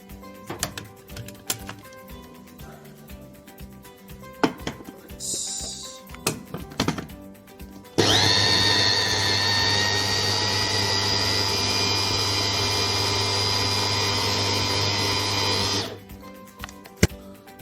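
Light clattering and knocks, then a food processor chopping hummus ingredients whirs loudly and steadily for about eight seconds before cutting off abruptly.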